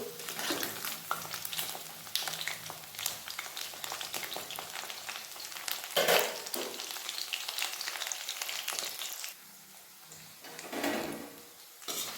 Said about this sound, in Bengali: ভালোভাবে উল্টে ভেজে নেব